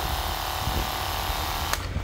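A 14.4-volt cordless reciprocating saw runs with a steady mechanical whir, with a brief sharp click near the end.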